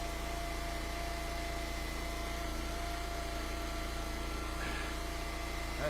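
A small gasoline engine on a log splitter runs at a steady idle, its constant drone and vibration filling the scene without pause or change, close by and unaccompanied by talk.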